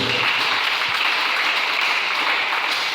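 A church congregation gives steady, dense applause for the Lord, a continuous even wash of many hands clapping close by, with no break for its whole length.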